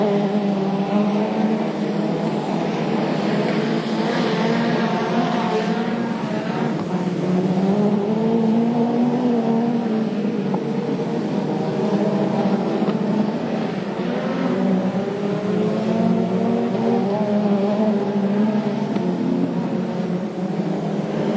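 National 4 speedway race cars at a dirt oval in Maryborough roar steadily down the back straight during a title final, a dense continuous engine drone with overlapping revs from several cars, loud throughout.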